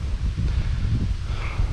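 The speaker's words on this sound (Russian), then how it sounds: "Ветрище." Strong wind buffeting an outdoor microphone on a fishing trip with a cast net, a steady low roaring rumble that fills the whole clip without a break.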